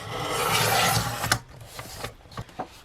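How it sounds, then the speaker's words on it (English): Paper for a planner folder being cut on a trimmer, a sustained scraping rasp for about a second followed by a few quieter taps and rustles nearby. "But I'm going to just cut at 7 inches."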